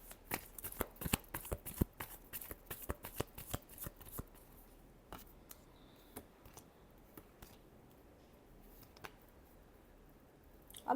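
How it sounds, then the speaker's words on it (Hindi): Tarot cards being shuffled, a fast burst of crisp riffling snaps and flutters up front that thins into sparse, quieter card clicks and slides toward the end, with no talking. "Last shuffle."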